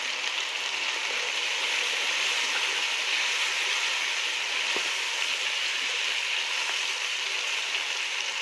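Finely chopped carrots for vegetable pulao cooking in a hot pot, a steady, even hiss and sizzle that stays constant throughout, with no voices.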